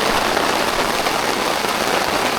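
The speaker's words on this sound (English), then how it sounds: "So it's really raining now." Heavy rain pours onto a shelter by a river during a dawn storm, a dense, loud, unbroken hiss of drops drumming on the surface throughout.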